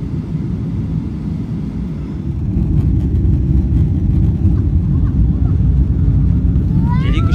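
An ANA airliner takes off from Narita airport, heard from inside the cabin as a loud, steady jet roar that intensifies partway through and holds without pause.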